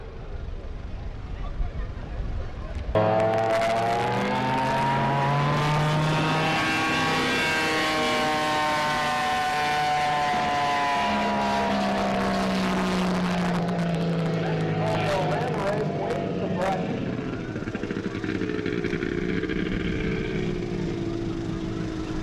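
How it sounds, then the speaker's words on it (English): Unlimited class racing boats roar across a lake at about 100 miles an hour, a loud sustained engine whine rising and falling in pitch as they pass, with announcer talk over the noise. "Jeff Hensinger of Bainbridge, who's put in a speed of 100 miles an hour in the unlimited class"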